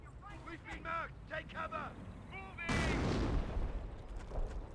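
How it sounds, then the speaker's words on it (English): A landmine detonated by a mortar strike from a half-track in the game Company of Heroes, one sudden loud booming blast with a rumbling tail that follows a stretch of voice chatter. "I think the mortar half track may have detonated another landmine"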